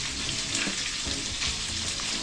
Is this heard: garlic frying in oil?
yes